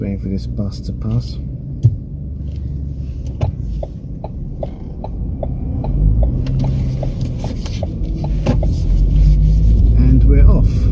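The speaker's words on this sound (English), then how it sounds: "Just waiting for this bus to pass." A bus passes along the street close by, a heavy engine rumble that swells and builds toward the end, with steady traffic noise around it and no speech over it.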